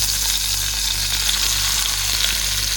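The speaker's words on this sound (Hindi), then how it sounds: "तो ये चिकन हमने डाल दिया पैन में।" Coated chicken frying in melted butter and olive oil in a pan over low flame, a dense, loud, continuous crackling sizzle heard up close with no talking.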